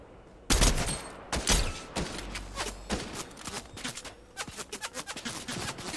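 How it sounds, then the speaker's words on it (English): Gunfire in the video game Fortnite: a dense fusillade of rapid shots, loud and close at first with a few heavy blasts, then lighter bursts rattling on in quick succession. "Are we shooting at him? Yep, we are."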